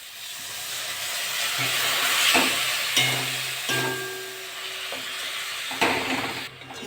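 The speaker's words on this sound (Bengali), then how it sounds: "এটা ভালো করে নেড়ে নেবো মশলাটা। সামান্য একটু জল দিয়ে দেবো।" Spice masala with a splash of water being stirred in a pan for a chicken skin and potato dish: a hissing, steamy sizzle broken by several clanks of a spoon against the metal.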